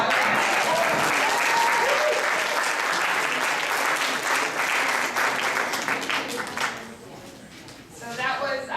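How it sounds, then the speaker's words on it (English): An audience at a Chinese school's Spring Festival performance event claps after a performance, a loud, sustained round of applause that thins and fades near the end before a brief resurgence. "Can we give him another round of applause?"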